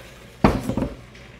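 Blended salsa for an egg dish poured and strained through a kitchen strainer, heard as a short clatter of metal and liquid against cookware, a burst of clinks and splashes lasting under a second, close by with no talking.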